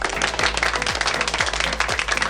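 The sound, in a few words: applause preset sound effect on 7RYMS 7Caster SE2 sound pad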